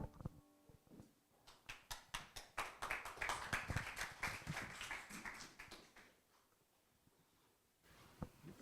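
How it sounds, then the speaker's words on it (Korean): Applause breaks out in a youth Sunday worship service at a church in Sanbon, a room of teenagers clapping for about six seconds with loose, uneven rhythm, rising quickly and then thinning out to a few scattered claps. "박수"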